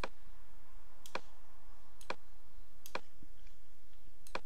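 A computer mouse clicks while editing in Photoshop, about five crisp, isolated clicks spaced roughly a second apart over a faint steady hum, close up and alone.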